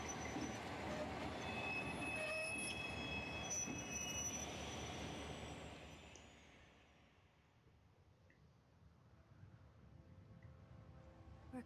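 Train from the Resident Evil Darkside Chronicles video game rumbling along with high metallic wheel squeals, loud at first and then fading to a lower, steady rolling rumble.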